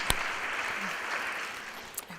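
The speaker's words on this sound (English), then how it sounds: "So, round of applause for all the people responsible." Applause from a church ladies' gathering, a soft, steady patter of many hands clapping at moderate distance, with a couple of sharper knocks standing out.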